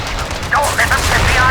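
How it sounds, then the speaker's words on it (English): Heavy artillery and gunfire in the Heroes over Europe flight combat game, with loud bursts of shots and booms cutting through dense battle noise, while a voice speaks over the action. "That artillery is causing carnage."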